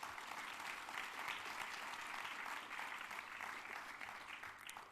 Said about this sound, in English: A big round of applause to our great panel.